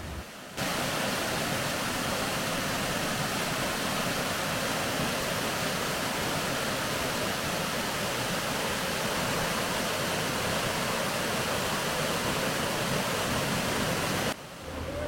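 Padekap waterfall near Achara in Konkan, a steady loud roar of falling water filling the whole clip without pause, broadband and constant, with no voices over it.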